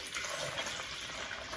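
Warm water poured into a container holding sugar, a short continuous splashing gush, close and on its own.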